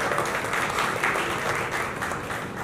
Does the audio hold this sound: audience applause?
yes